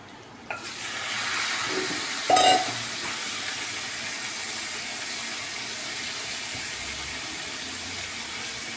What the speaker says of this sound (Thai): ใส่ไก่แล้วเติมน้ำลงไปแล้วก็ใส่เกลือ แล้วก็ผัดให้เขาแห้งๆ